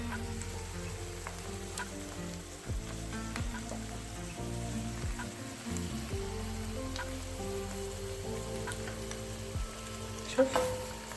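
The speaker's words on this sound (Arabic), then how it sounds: "المهم المقله بدات كتسخن" Oil sizzles steadily in a frying pan heating on the stove while a home dinner is prepared, a dense, continuous crackle that stays fairly loud and even throughout, with a few sharper pops near the end.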